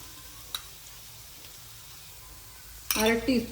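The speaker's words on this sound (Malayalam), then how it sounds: "നന്നായിട്ടൊന്ന് ഇളക്കി വഴറ്റിയെടുക്കാം" Ginger garlic paste stirred into a pan of sautéing fish, a faint low sizzle with a single metallic tap early on, then a louder burst of spoon scraping and stirring near the end, with a voice speaking over it.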